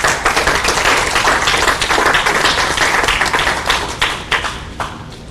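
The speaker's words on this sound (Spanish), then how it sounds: "Denle un aplauso al Señor." Sustained applause from a church congregation, dense and steady clapping throughout with no voices.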